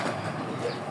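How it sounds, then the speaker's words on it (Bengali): A pet bird at home gives soft, dove-like cooing calls, steady and fairly close, filling a brief moment with no talk over it. "এই যে আমাদের ব্রাউনি পাখি, দর্শকদেরকে হাই করি দাও।"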